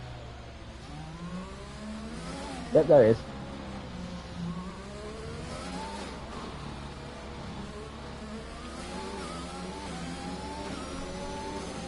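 Onboard engine of an Aston Martin race car in a racing video game, a steady buzzing engine note with shifting revs throughout, with a brief spoken remark near the start.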